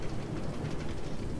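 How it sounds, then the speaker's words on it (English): A steam train in a video game rolls along with a dense, steady low rumble, brief and unbroken, with no voices over it. "I drove a steam train!"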